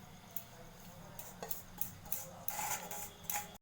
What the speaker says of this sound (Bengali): ওই পেঁয়াজের সঙ্গে বেসনটা সব ঢেলে মাখিয়ে নেব।